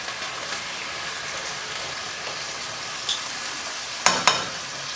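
Pork fried rice sizzles in a pan with a steady soft crackle, broken by a few louder scraping clatters of stirring toward the end.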